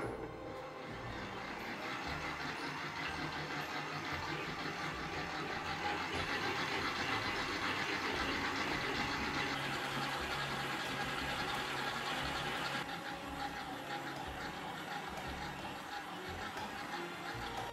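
A stand mixer kneads plant-based brioche dough made with olive oil at medium speed, giving a continuous motor drone with a rhythmic mechanical clatter that stays even throughout, with no talking.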